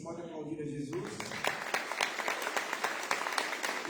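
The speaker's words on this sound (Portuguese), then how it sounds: "você pode aplaudir a Jesus." A church congregation applauding during a Sunday evening service, dense clapping rising after a spoken line at the start and continuing steadily, with a voice faintly over it.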